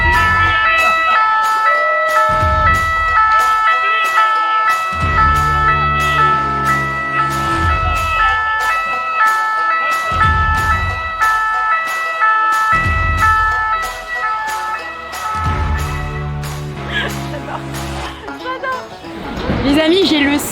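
Emergency siren from a passing vehicle wailing in repeated cycles through a noisy street scene, with people talking over it and low rumbling beneath.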